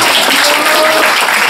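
An audience at a singer's fan club meeting breaks into loud, dense applause, many hands clapping evenly and continuously at close range without any talking.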